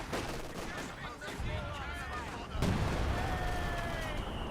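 Artillery barrage in the video game Company of Heroes 2, with repeated booming blasts and gunfire cracks, a heavy impact near the middle, layered over continuous battle noise and whistling tones.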